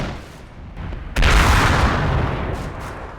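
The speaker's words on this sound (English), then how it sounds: "My Panther provides area fire." A Panther tank lays down area fire in the World War II strategy game Combat Mission: a quiet rumble, then a heavy sudden blast followed by a long rolling echo and further distant shots.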